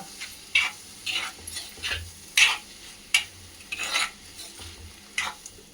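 Onion and spice powder mix being stirred in a pan for a shark puttu dish, a spoon scraping in repeated strokes with a soft sizzle underneath, close and fairly loud, no talking.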